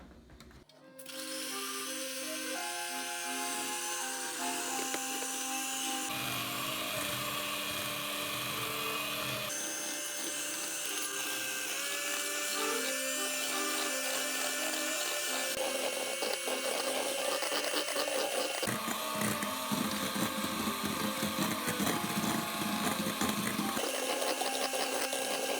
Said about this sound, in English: I'm going to add a little bit more sugar, beat them a little further